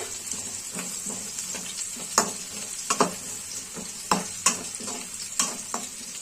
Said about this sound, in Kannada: ನೀಟಾಗಿ ಫ್ರೈ ಆಗ್ಬೇಕು ಇಲ್ಲಿ ಬೆಳ್ಳುಳ್ಳಿ ಹಾಗೆ ಈರುಳ್ಳಿ